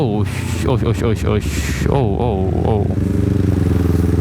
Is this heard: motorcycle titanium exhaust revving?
yes